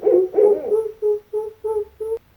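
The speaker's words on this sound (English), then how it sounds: "Here's an owl sound." An owl gives a close, clear series of hoots, two longer wavering calls followed by several short, evenly spaced ones.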